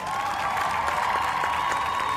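Studio audience applause during a Peruvian sports talk show, a steady, dense wash of clapping that holds evenly throughout at moderate loudness, with no voices standing out.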